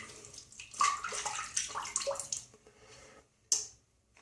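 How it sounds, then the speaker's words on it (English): Water is splashed onto a face at a sink before a wet shave with shaving soap, a run of close, light splashes and drips that fade, then one last short splash. "I'm going to wet my face again."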